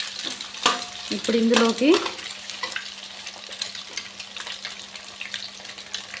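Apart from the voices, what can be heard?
chicken fried rice being stirred and roasted in a pan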